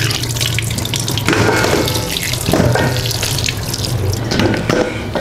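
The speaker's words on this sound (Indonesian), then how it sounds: "Kita cuci singkongnya sampai bersih." Cassava roots are washed by hand under a running kitchen tap, with water splashing loudly and steadily into a sink while the tubers are rubbed and turned.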